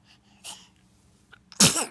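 A single sharp sneeze close to the microphone, preceded by a couple of soft breaths and quiet sounds, then ending abruptly.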